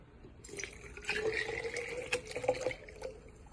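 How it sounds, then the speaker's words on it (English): Warm water runs and splashes steadily into a container for a yeast and sugar mixture, with a few drips and clinks, fairly close and moderately loud. "And then I'm gonna add some warm water."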